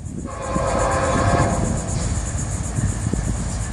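FEC train 202 rolling past with a horn blast over the first second and a half, a sustained harmonic chord, followed by steady rumble of the passing cars; loud and close throughout.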